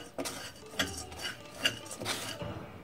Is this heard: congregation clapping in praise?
no